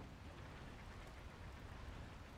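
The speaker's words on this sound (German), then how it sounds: "Was ist mit dem Regen los?" Steady rain in the video game Wild Hearts, a dense, even wash of falling rain heard throughout without pause, moderately quiet and with no voices over it.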